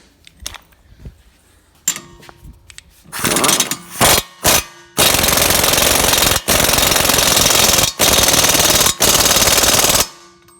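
Smart impact wrench tightening the rear wheel bearing bolts on a Dodge: a few short, loud rattling bursts, then a long hammering run broken by brief pauses, close and alone with no talk.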